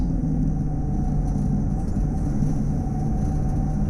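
Racing cars in a video game lapping a wet Brands Hatch Indy circuit, a steady droning engine roar with a constant hum throughout, loud and unbroken.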